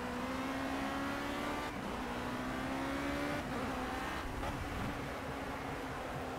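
Formula C race car engine at Snetterton in the Project Cars racing game, a loud continuous whine with steady, rising pitch that holds for the whole stretch, heard alone with no talk.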